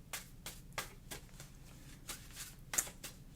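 Cards being shuffled, a run of crisp riffling bursts at an even pace, close and fairly quiet, with no voices.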